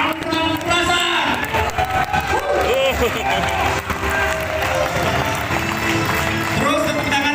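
An audience at a book discussion event in Makassar claps and cheers loudly and continuously, with whoops and a voice speaking over the crowd.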